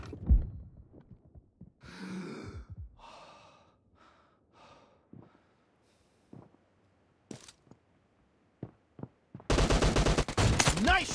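Gunfire in a shooting video game: scattered single shots and breathy gasps, then a loud, dense burst of rapid automatic fire at the end.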